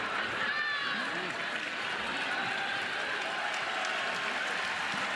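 Steady murmur of a volleyball arena crowd at a Florida vs Florida State match, a restless rumble of many voices with scattered claps and calls running continuously at even loudness, a commentator speaking over it.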